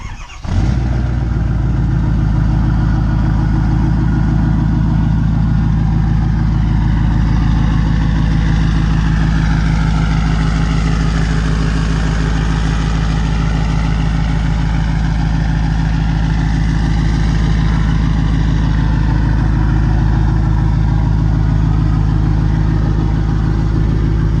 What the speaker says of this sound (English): we'll probably go ahead and get the truck warmed up here